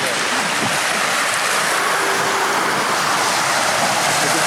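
Ocean surf at Miami Beach rolls in as a steady, loud, broadband roar with wind buffeting the microphone throughout.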